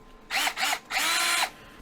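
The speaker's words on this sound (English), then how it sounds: "let me fire up a nice big drill bit and we'll countersunk those holes" A large drill bit countersinks bolt holes in the table of a Harbor Freight metal-cutting bandsaw, three loud close bursts of high whirring cutting separated by short pauses, the last burst longest.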